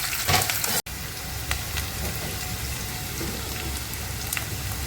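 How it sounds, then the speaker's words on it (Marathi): Onion frying in oil in a pan for a spicy chicken rassa, a steady, close sizzle with crackling throughout and a brief dropout near the start. "हे बघा हा कांदा आता आपला खरपूस भाजून होतो आहे"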